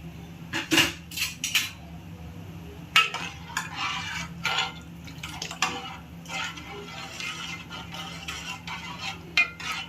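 A spoon stirs moth bean dal amti with water in a metal pot, giving repeated scraping and clinking knocks against the sides in an irregular rhythm over a low steady background hum, with no talking.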